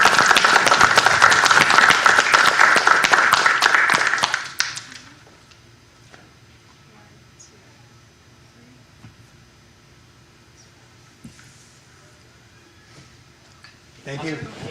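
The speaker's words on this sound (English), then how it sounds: "How about a round of applause?" Loud, dense clapping fills a council meeting chamber for about four seconds, then stops abruptly, leaving quiet room tone and faint shuffling before a brief rise of noise near the end.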